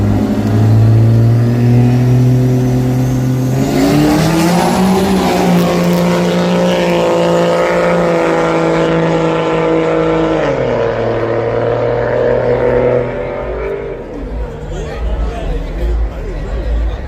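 Race car engines roar loudly and continuously at a dirt racing event, revving and shifting pitch as cars pass close by, with crowd chatter underneath.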